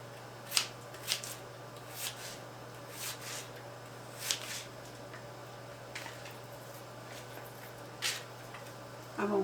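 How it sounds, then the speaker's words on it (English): A knife slices a peeled onion into thin slices on a cutting board, with sparse, quiet chops landing at uneven intervals over a faint steady background hum. "I'm fixing to cut my onion up. I peeled it right quick. And I'm just going to cut it in little slices."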